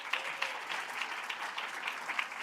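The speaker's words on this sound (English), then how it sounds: "Please clap it up for Jenny Wampler." Audience at a school sports awards ceremony claps steadily for an honored swim athlete, a fairly faint, even patter with a few sharper claps standing out.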